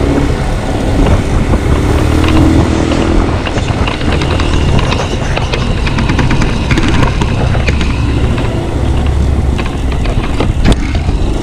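A motorcycle ride along a road toward a barangay fiesta, with loud, steady engine drone and wind rumble throughout, close to the microphone and no talking.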